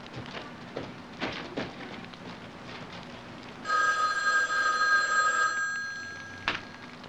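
At a hotel reception desk, a telephone bell rings in one sustained, bright trill for a few seconds over a hissing room tone, then stops.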